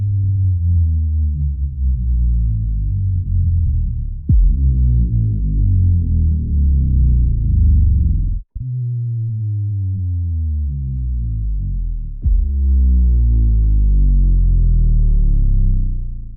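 Downer sound effects from the Keepforest Evolution Devastator Warzone pack play as a run of loud, deep descending sweeps. Several long pitch drops follow one another, each set off by a sharp hit.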